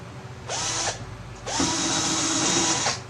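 A power drill whirs in two bursts while drilling through the outer frame of a Jeld-Wen window, a short one then a longer sustained run, close and loud with no talking.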